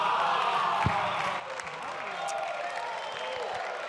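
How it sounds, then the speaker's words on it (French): Applause breaks out in the French National Assembly chamber during a debate on amendments, a dense burst of clapping that quickly thins into scattered claps and a low murmur of the room. "Ne prenez pas trop goût à m'applaudir"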